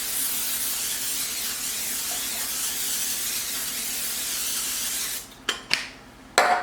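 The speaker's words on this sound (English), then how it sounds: "with some of the olive oil spray." Short bursts of olive oil cooking spray, three quick hissing squirts near the end after a steady background hiss, close and fairly loud.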